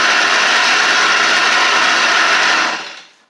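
A Stihl weedeater runs after a carburetor replacement, its high-pitched two-stroke engine buzzing loud and steady for nearly three seconds before winding down.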